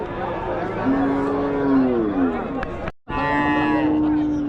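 Cattle at a busy cow market moo in long, drawn-out calls, loud and close, with a steady murmur of market noise beneath; the lowing breaks briefly and then resumes.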